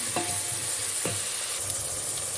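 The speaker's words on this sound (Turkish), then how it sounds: "Kara lahanamızın olması olmazı iç yağımı da ilave ediyorum. Hepsini beraber kavuruyorum." Collard greens sauté with suet in a pan for a Black Sea collard dish, a constant hissing sizzle with two brief scraping stirs, close up and without speech.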